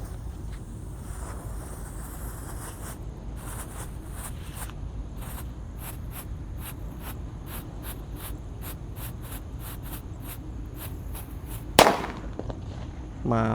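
A disco happy flower firecracker fires a steady run of sharp crackling pops and bursts over a hissing background, ending with a louder burst near the end.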